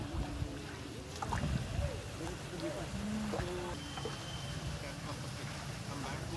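On the Dawki river in Meghalaya, a boat's continuous low rumble and splashing water wash carry on steadily, with a few scattered knocks and trickling sounds over it.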